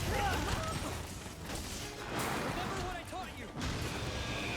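Explosion during Monster Hunter combat with a Charge Blade, heavy booming blasts and crashing impacts layered with game effects, while a player talks over the action.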